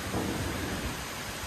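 Thunder rumbles through a dense, steady roar of rain beginning to fall, the storm wash filling the space continuously and fairly loud, with no voices.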